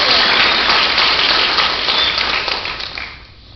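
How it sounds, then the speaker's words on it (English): Dense, sustained clapping from a crowd at a school board meeting honoring elementary-division grand champions, steady for a few seconds and then thinning out and fading toward the end. "give them a big round of applause"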